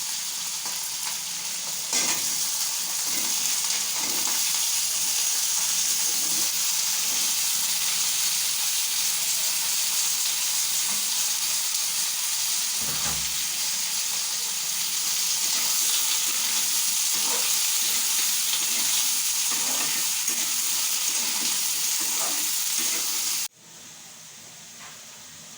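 Shrimp and sweet pumpkin fry in a pan with a loud, continuous sizzle and hiss. Occasional clacks of stirring come through, and the sound drops off abruptly near the end.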